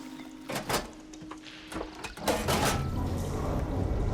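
In the video game Horizon Forbidden West, machinery clunks and slides in a few mechanical bursts, then water flow switches on into a steady rushing wash that continues to the end.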